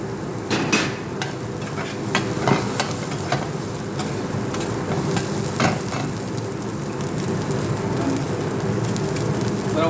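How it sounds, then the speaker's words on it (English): White cabbage is stir-fried for restaurant-style Chinese fried rice in a Dubai restaurant kitchen, with a loud continuous sizzle and rapid clanking of a utensil against the pan. "Then we added cabbage."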